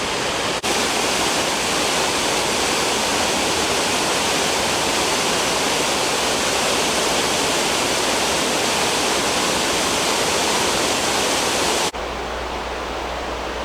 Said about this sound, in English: We've just passed those nice little waterfalls that were located at the Grist Mill.